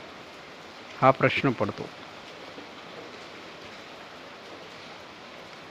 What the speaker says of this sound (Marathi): आता ही रिपरिप सुरू आहे.